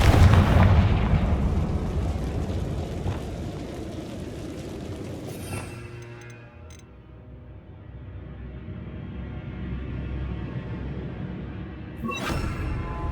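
A fiery Confringo spell blast explodes in the Hogwarts Legacy video game as a loud boom that rolls into a long, fading rumble, followed by a later sharp crack.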